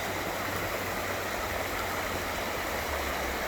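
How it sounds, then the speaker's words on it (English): Small winter stream spilling over a low drop, a steady broadband rush of flowing water close by and alone, with a faint low rumble beneath. "Just listen to the water."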